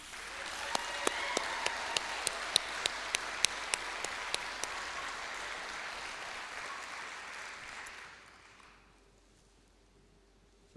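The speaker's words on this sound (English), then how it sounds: "Recruits, do you know why they were clapping?" An audience applauds fire recruits at a South King County Fire Training Consortium ceremony, with steady crowd clapping and a few sharp claps for about eight seconds before it fades into quiet room noise.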